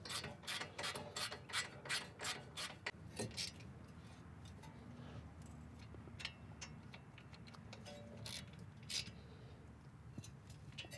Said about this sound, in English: Tighten them down evenly to pull the hub into the spindle.